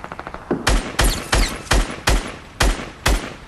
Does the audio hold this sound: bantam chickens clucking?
no